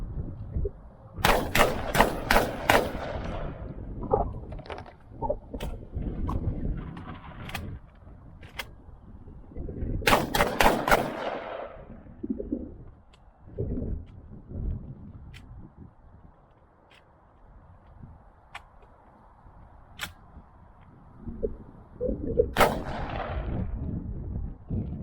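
A Landor Arms LND117 AR12 shotgun fires loud, sharp blasts outdoors, in a quick burst of several shots, a second burst around ten seconds, and a final shot near the end, with quieter handling clunks in between.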